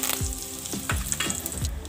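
Curry leaves tempering in hot oil with mustard seeds, cumin and asafoetida for poha, giving close, crackling sizzles with several sharp pops spread over the two seconds.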